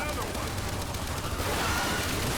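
Rapid gunfire in Gears 5 as enemies are hit, a continuous dense rattle of shots with a voice talking underneath.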